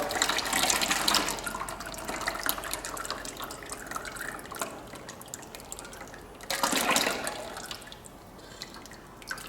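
Oil draining from a Ford 5610 tractor into a bucket, a continuous liquid pour and splatter that swells loudest at the start and again briefly later, with no voices.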